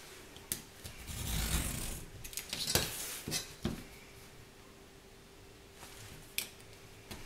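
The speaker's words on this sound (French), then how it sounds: "on coupe l'intérieur maintenant" A craft material being cut out from the inside. A handful of crisp snips and scraping cuts come up close but quiet, spaced irregularly with still gaps between, and no one talks.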